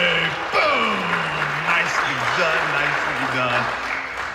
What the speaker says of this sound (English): Give Finley a big clap, everybody, for being awesome today.